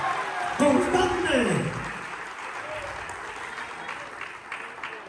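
A church congregation claps for a family during a service, the clapping continuing as a broad wash of sound beneath a preacher's voice that is strongest early on, then lingering steadily to the end.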